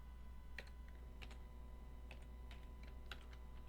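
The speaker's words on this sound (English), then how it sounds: "And I'm going to type my H1" Typing on a computer keyboard, a faint, close run of light, irregular key clicks.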